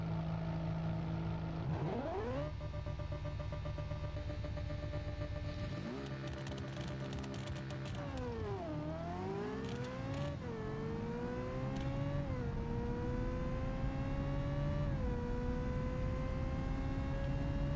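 Stock naturally aspirated V8 all-wheel-drive car in BeamNG revving hard, pitch climbing through repeated gear shifts with sharp drops between them, loud and close with no talk.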